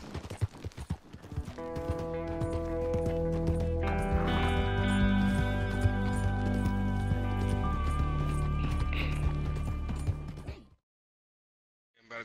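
A horse moves along with hooves clip-clopping in a rhythmic patter, set against sustained tonal background sounds, then everything drops into near silence.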